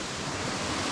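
Water in a narrow mountain ravine on Dooish Mountain in Donegal, Ireland, pours down a waterfall as a steady, loud, broadband rushing hiss close by, with no voices.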